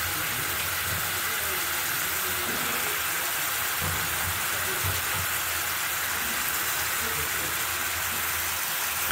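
Taro stolons dropping into a hot pot with a hilsa fish head, a steady loud sizzle and hiss throughout, with a voice speaking over it.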